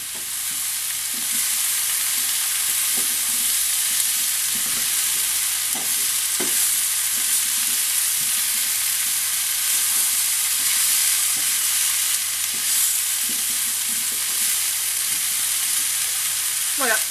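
Vegetables seasoned with pepper and dried thyme are stirred in a hot frying pan, giving a steady close sizzle broken by repeated scraping stir strokes, with no talking.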